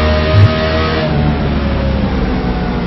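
Race cars in a FullThrottle Cup event at New Hampshire roar together in a steady, loud engine drone, with a brief revving swell near the start and continuous mid-range engine noise throughout.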